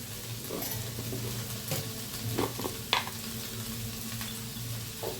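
Turmeric, red chilli powder, garam masala and salt sizzle in a pan with brinjal as they are stirred, a steady close frying hiss punctuated by spatula scrapes and taps.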